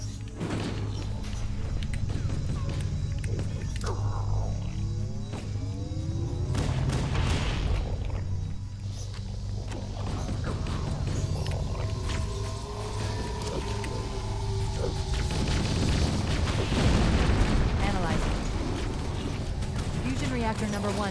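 Explosions and heavy booms sound as reactors are blown up in the Xbox game Halo: Combat Evolved, with dull impacts and metallic rumbles layered over continuous game music and effects, and a voice speaking at times.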